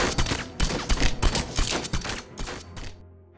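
Gunfire in a film scene as a man shoots guards, rapid loud bursts of shots in quick succession, ending in a brief quiet tail.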